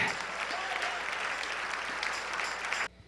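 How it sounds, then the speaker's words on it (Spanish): A church congregation applauds during a Spanish-language sermon, a steady, fairly distant wash of clapping that carries on for nearly three seconds and then stops abruptly. "Dale ese aplauso al Rey."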